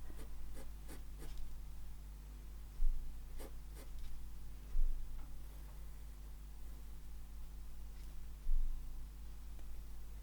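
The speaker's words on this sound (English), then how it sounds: "The beauty of sort of sketching it out with pencil first." Pencil scratching across paper while sketching a swan, soft intermittent strokes with a few sharper taps against a quiet hum, close and faint.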